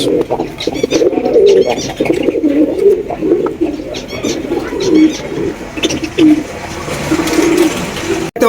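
Pigeons coo repeatedly in a pigeon market, a close, loud chorus of overlapping throaty coos and bubbling calls, with a few chirps and a short spoken remark mixed in.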